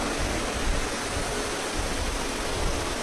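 Heavy rain pours steadily over an outdoor Shiv Mahapuran katha gathering in Gurugram, Haryana, a dense, unbroken loud hiss with no voices.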